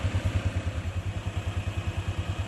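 A tractor pulling well pipe up out of the ground runs its engine with a fast, even, low chugging pulse close by, throbbing steadily for a few seconds with a faint clatter on top and no voices.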